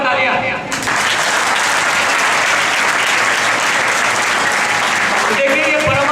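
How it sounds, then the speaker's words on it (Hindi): Loud, dense applause from an audience at a school event fills the room, a continuous wash of many hands clapping close by, beginning abruptly and carrying on steadily. "जोरदार तालियां"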